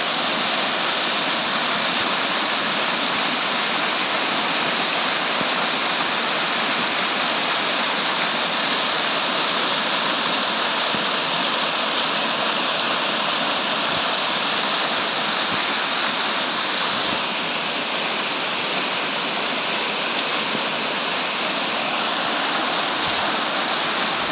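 A powerful waterfall on the Charmadi Ghat mountain pass roars continuously nearby in rain, a dense, steady rush of crashing water that never lets up.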